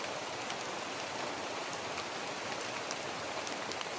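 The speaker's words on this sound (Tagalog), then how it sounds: "Tamang-tama umuulan." Steady rain falls continuously, a dense even hiss of drops on surfaces with faint scattered patters, no voices over it.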